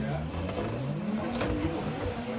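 A race car engine in the Assetto Corsa racing game, run with a very high gear ratio, holds a steady droning rev with a rising pitch sweep, set under a voice talking throughout.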